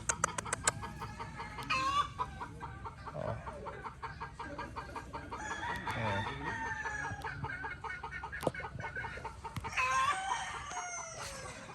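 Straight-comb broodcock gamefowl rooster at a gamefarm clucking repeatedly in short bursts, with crowing and other chickens nearby, fairly close and clear over light farm ambience.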